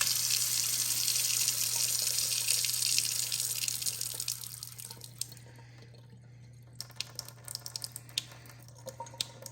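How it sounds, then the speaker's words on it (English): Water gushes from an opened kitchen sink faucet to relieve household line pressure, a loud steady rush that fades midway into scattered drips and trickles under a constant low hum. "make sure you relieve the pressure in the house by opening up the faucet on the"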